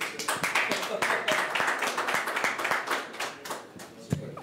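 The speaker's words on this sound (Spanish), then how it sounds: "Un fuerte aplauso, por favor." A crowd claps in sustained applause at an official football club player presentation in Bolívar, with dense sharp hand claps throughout and a voice heard faintly underneath.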